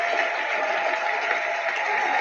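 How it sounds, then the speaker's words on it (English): Steady, dense applause fills the whole stretch at even loudness, a sustained round of clapping with no voices over it. "Let's give a round of applause to all those that share."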